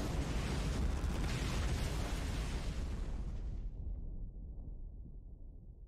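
A nuclear explosion in the Ni No Kuni II: Revenant Kingdom video game, a huge roaring rumble that holds loud for several seconds, then the hiss cuts away, leaving a fading low boom.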